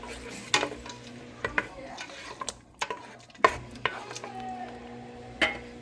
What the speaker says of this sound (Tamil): இப்போ இதுக்குள்ள இந்த தக்காளி கலவையை வந்து சேர்க்குறேன்னு. சேர்த்துட்டு மிக்ஸ் பண்ணலாம்.